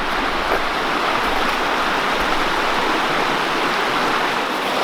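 River water pours over an old dam or mill site on a New England hiking trail, making a loud, steady, close rushing roar with no voices.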